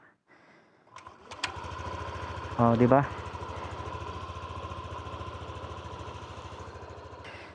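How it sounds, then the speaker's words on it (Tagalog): A Yamaha Aerox 155 V3 scooter with about 13,000 on the odometer starts up and settles into a steady, close idle hum, with a short rev and a brief spoken remark over it. "Pakinggan nyo yung makina, pakinggan nyo."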